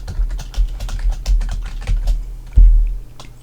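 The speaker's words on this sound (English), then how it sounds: "I'm going to type in Evaporate" Rapid, close keystrokes on a computer keyboard as a single word is typed, a dense run of clicks with one heavier thump near the end.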